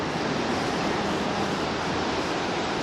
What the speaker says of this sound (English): they can hear the waves all day long